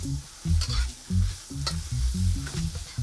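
Pork ribs and carrots sizzle and fry loudly in a pot as rice wine is added to deglaze, with steady crackling and repeated stirring scrapes in a rhythmic pattern, close and with no talking.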